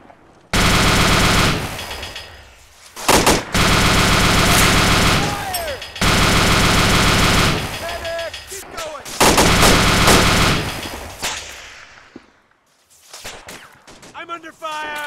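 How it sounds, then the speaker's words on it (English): Gunfire in the ArmA II military video game: loud, dense bursts of automatic fire and booming shots in several long volleys with short gaps, a voice speaking between them. "I'm under fire."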